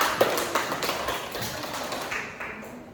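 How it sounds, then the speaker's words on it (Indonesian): Applause in a classroom for a classmate, a scattered patter of hand claps from a small group that tapers off over a few seconds. "kita kasih aplaus untuk temannya ya"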